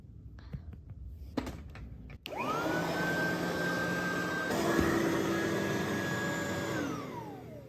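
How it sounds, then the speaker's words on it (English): A household vacuum cleaner switches on after a few quiet knocks, then runs with a loud, steady whining roar close by before its pitch begins to sink as it winds down. "I'm gonna vacuum, okay? It's gonna be noisy."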